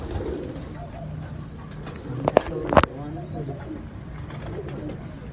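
Racing pigeons cooing softly in a loft, with a faint continuous coo and a couple of short sharper calls or flutters in the middle, all under steady background noise and people talking nearby.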